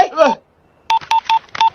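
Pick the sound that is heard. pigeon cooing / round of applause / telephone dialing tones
telephone dialing tones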